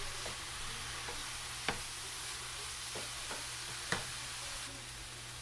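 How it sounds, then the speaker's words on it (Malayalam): Chopped green chillies stirred into frying cabbage make a soft continuous sizzle, punctuated by a few sharp spatula knocks against the pan, with a low steady hum beneath. "നന്നായിട്ട് മിക്സ് ചെയ്ത് ഇളക്കാം"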